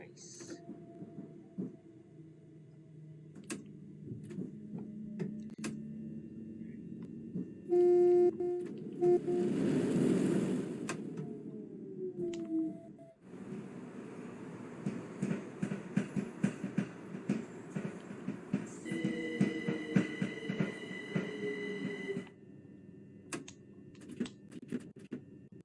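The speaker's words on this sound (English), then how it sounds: "Ooh, we're going through a train wash." A train runs through a train wash in Train Sim World 2 on a London commuter route, with a mechanical rumble, brushing and clattering noise that swells, shifts and stops over several stretches. Keyboard-like clicking comes and goes throughout.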